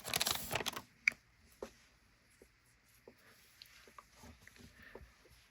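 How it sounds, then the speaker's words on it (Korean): A KBL basketball trading card pack is torn open with a quick burst of crinkly foil ripping, followed by a few faint scattered rustles and crackles of handling, close to the microphone in a quiet room. "카드를 뜯어보겠습니다."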